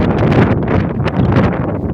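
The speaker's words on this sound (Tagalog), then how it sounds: "lakas ng hangin" Strong wind buffets and roars across the microphone in loud, uneven gusts while riding a Fury 125 motorcycle, steady throughout the short moment.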